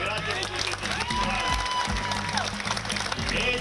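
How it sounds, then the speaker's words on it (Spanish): Crowd at a televised Sunday variety show applauds, a dense, moderate wash of clapping and cheering heard somewhat in the background, blended with stage noise and music throughout. "Un aplauso para doña Altagracia de 105"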